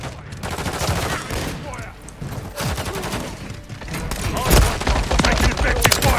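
Video game gunfire rattles in dense, continuous bursts and volleys, loud and close, with voices calling out over the shooting.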